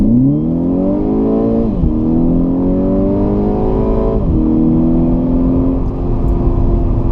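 A Volkswagen MK6 GTI hot hatch at full throttle in sport mode, its engine note climbing loud and close through three rising sweeps, with quick upshifts cutting each pull short before it climbs again.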